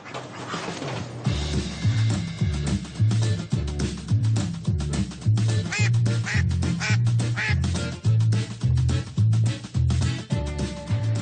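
Many ducks on a foie gras farm quack loudly and repeatedly in a busy, overlapping chorus close by, with occasional higher calls mixed in.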